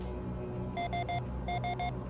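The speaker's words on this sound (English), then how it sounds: "I thought the proximity alarm was for the ship I was trying to dock with" A spaceship proximity alarm in the game Ostranauts sounds as two quick sets of three sharp electronic beeps over a steady low engine hum, with no talk.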